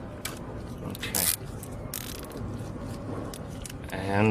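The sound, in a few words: zip tie being tightened on Mercedes V8 throttle body parts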